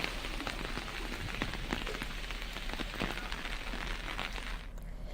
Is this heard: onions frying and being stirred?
no